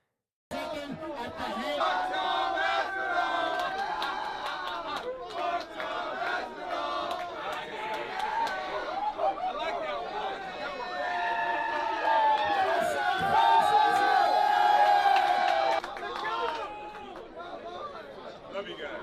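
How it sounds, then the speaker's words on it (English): A crowd at a Dirty Boxing weigh-in chants Tom Aspinall's name, loud rhythmic massed voices with shouting and cheering that swell and build before cutting off near the end. "The crowd started chanting, "Tom Aspinall.""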